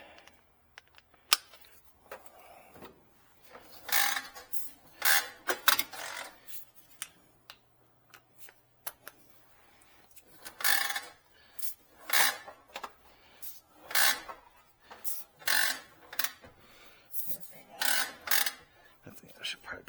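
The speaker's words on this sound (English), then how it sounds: "Here's our handy dandy air wrench" A pneumatic air wrench on a Nissan Frontier during an oil change, firing in short bursts of harsh rattling whir and clattering, several separate pulls with pauses between them and a voice talking at times.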